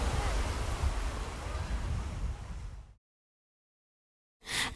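Clean, head-high surf breaking at Saunton Sands beach in Devon during a longboard contest; a broad roar of waves and wind noise runs for three seconds, cuts to silence, then a brief burst returns at the end.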